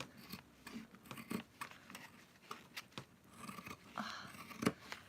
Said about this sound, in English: I'm going to have to get some new fabric scissors that have been used for more things other than fabric